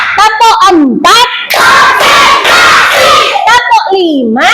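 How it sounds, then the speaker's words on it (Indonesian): Children in an Indonesian classroom ice-breaking game clap together in a loud, sustained burst, bracketed by a teacher's voice and children's voices calling out before and after. "tepuk tangan buat semuanya"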